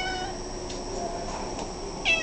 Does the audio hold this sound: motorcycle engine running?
no